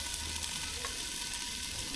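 Eggplant slices fry in a covered pan, giving a steady, dense sizzle and crackle that holds unbroken for the whole moment, close and even with no voices.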